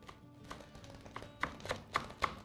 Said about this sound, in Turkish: ince ince doğrayalım.